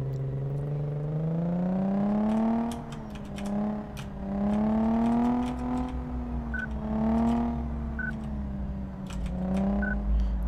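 A fast car in Car Mechanic Simulator 2014 drives along with a loud, steady engine drone that rises and falls in pitch as it speeds up and eases off, with a few faint ticks near the end.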